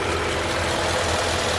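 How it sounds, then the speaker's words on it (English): A 2011 Ford F-150 XLT with the 5.0-litre Coyote V8 and about 141,000 miles idles steadily, a smooth, even low rumble held close and alone without any voices. "Coyote engine."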